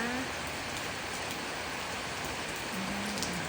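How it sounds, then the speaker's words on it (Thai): Continuous rain falls heavily and evenly, a broad wash of drops pattering on surfaces, with a faint passing hum in the background. "บ้านใครฝนตกบ้างคะ"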